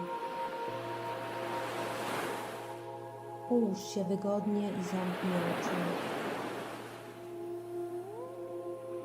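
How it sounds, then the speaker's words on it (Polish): Soft, steady sea waves wash in the background beneath a calm spoken voice and sustained ambient tones. "Usłysz w tle spokojne szumy morza."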